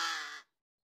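A single rasping caw from a large-billed crow, a young bird nearly ready to fly, close and clear, cutting off abruptly into silence.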